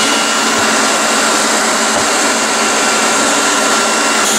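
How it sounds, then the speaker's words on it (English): Leister hot air plastic welding tool blowing hot air, a loud steady whooshing roar that holds constant throughout, close and alone. "we're going to show you how we can get air really hot, really fast"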